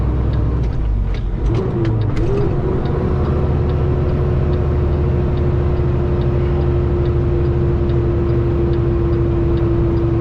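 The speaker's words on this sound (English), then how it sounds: "See, I'm in gear 5 and my RPM still goes down." A car engine in fifth gear labors up a steep hill in North Carolina or Tennessee, a steady loud drone holding one pitch throughout with a faint whine above it.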